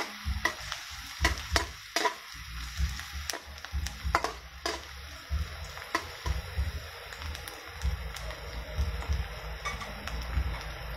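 Garlic and onion sauté together in a pan for spaghetti: a bright steady sizzle under repeated clacks and scrapes of a spatula stirring against the metal, with no talking.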